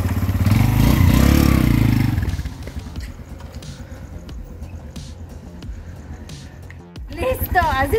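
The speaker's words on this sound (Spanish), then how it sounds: "Así es como se prende una moto de puchón." A motorcycle push-started: a loud engine roar that drops to a rougher idling rumble, with clattering and scraping, and a voice speaking briefly near the end.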